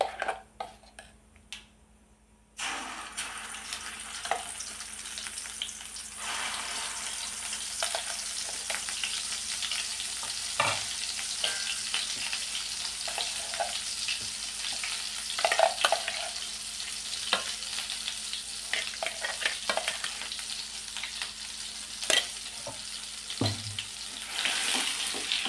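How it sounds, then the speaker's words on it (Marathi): Ground masala frying in hot oil with spluttering mustard seeds and cumin for a spicy brinjal dish. A continuous close sizzle runs throughout, with occasional spoon scrapes and clinks against the pan, and no voices. "मसाला थोडासा परतून घ्यायचा."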